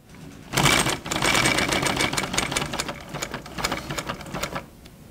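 Treadle-controlled sewing machine stitching a dart, a fast steady mechanical clatter that starts abruptly, runs for several seconds with slight speed changes, then stops.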